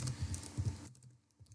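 Soft, rapid keystrokes on a computer keyboard patter for a moment, then thin out into a few scattered faint taps, quiet and close, with no one speaking.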